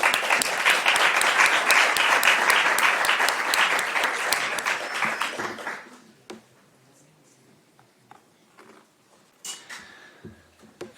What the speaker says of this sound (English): I would ask everyone to give one more round of applause for all these introductory words